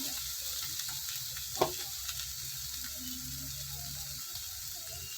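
Bitter gourd frying in a pan with chili and coriander powder, a steady sizzle with soft scraping strokes of stirring running throughout, close and alone.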